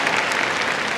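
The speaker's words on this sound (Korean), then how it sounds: "박수 일단 드리겠습니다." Dense audience clapping at a Busan International Film Festival open talk for the film Good News, a steady burst of applause filling the moment with no voices over it.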